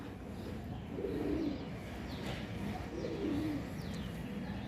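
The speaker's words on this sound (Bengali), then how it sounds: "কত পায়রা আসে" Soft, low cooing from pigeons repeats in gentle phrases over steady outdoor background noise, with faint chirps higher up.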